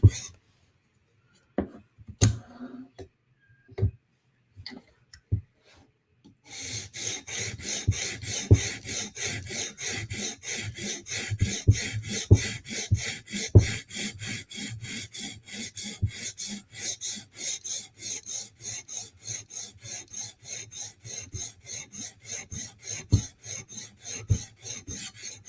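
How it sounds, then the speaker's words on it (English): A knife's steel blade is drawn against a fresh whetstone in rapid, rhythmic rasping strokes, close and continuous after a few scattered scrapes at the start. "Steel is sharpening really easy, and the stone is fresh, so it's definitely helping out."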